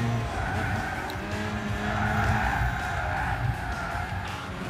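Car drifting through a bend in the Gran Turismo 6 racing game, with a steady engine drone and a sustained tire squeal that holds for several seconds at an even loudness.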